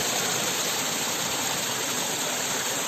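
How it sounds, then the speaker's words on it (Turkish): Mountain stream flowing on Mount Ida, a steady full rush of water with constant broadband splashing, close and unbroken throughout, with no voices. "burası yaklaşık Temmuz'a kadar böyle akan bir dere"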